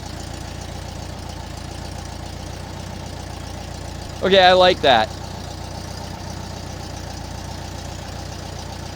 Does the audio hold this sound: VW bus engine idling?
yes